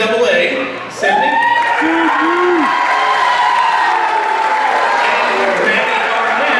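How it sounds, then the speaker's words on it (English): An awards-night audience honoring outstanding college athletes claps and cheers loudly, with whoops and shouts rising over sustained, dense applause. "A very big round of applause for these outstanding athletes."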